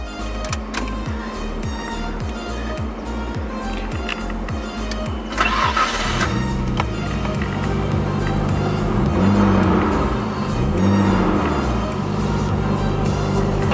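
A Datsun Fairlady 280Z sports car engine cranks with a rapid rhythmic starter churn, then catches and settles into a rumbling idle with a couple of revs, close and loud.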